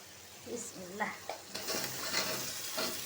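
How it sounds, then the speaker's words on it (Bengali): Cauliflower and potato tumble into a pan of frying spice paste for a Bengali rui fish curry, bringing a close, rising sizzle with stirring scrapes as someone speaks briefly at the start. "দিয়ে দিলাম ফুলকপি আর আলু"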